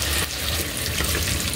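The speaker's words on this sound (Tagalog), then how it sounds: "Lagyan ng tubig po mga idol." Water poured into a cooking pot on the stove, a steady broadband splashing and running stream that lasts throughout, close and fairly loud, with no talking over it.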